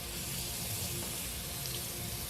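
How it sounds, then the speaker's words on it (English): Cold tap water runs steadily over vegan meat pieces in a sink, a loud, continuous splashing rush with no pauses. "I'm gonna run some cold water over them because I want to get them cold enough to handle."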